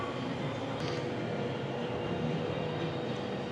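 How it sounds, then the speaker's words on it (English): Continuous low rumble and hiss of a small model train running inside a shop in Estes Park, steady throughout, with faint background ambience and no clear talk. "wow, they even have a train up there"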